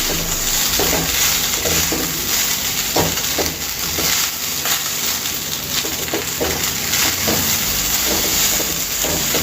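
Paneer fried rice with spring onions frying and being stirred in a pan, a steady loud hiss with scattered clinks and scrapes of a spatula throughout, no voices.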